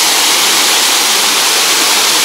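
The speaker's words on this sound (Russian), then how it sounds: "Вот еще один водопад." A waterfall in the Indonesian jungle roars as a dense, constant hiss of falling water, loud and close, with nothing else audible over it.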